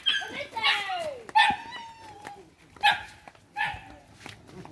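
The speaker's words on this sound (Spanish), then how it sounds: "Vaya, ahí vienen los perros." Several big dogs approach on a street with a series of barks, yips and whining yelps, some loud and close and others farther off, with pauses between bursts.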